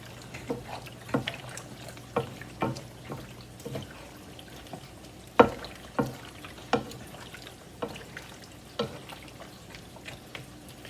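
Fajita pasta sauce being stirred in a pot after cream is added, a spoon scraping and clinking against the pot in a steady series of soft, close strikes over a quiet simmer.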